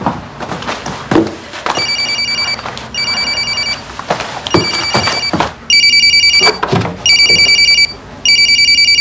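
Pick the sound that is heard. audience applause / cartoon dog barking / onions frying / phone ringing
phone ringing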